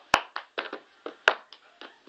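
Hand claps and cup taps in the cup song, played as a quick rhythmic sequence of about ten sharp, close percussive hits, louder claps mixed with lighter taps.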